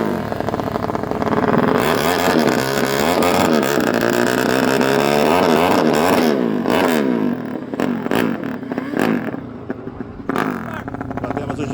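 JB Motos motorcycles roll up at a nighttime street drag-racing meet, engines droning loudly and close with rising and falling revs, then easing off into quieter, choppier idling near the end.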